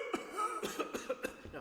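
A short run of several coughs in quick succession, fairly close and moderately loud, with no speech.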